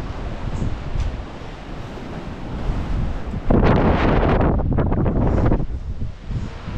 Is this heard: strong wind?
yes